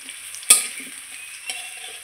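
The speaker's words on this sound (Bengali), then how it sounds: "আলুটা একটু ভেজে নিচ্ছি।" Potatoes fry in a pan with a steady close sizzle, punctuated by one sharp utensil knock or stir near the start and a softer one later, with no voices.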